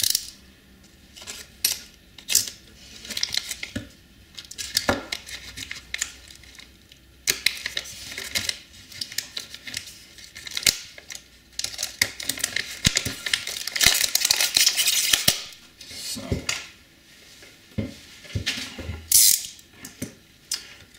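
A GeForce 2 MX graphics card package gets opened, with crinkling plastic, clicks, taps and rustling handling noises coming in irregular close bursts, busiest in the middle stretch, and no talking.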